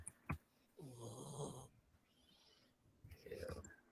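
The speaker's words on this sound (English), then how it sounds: "You are snoring into this." Snoring right into a microphone, close and breathy, with a couple of rough inhaled snores and a faint click at the start.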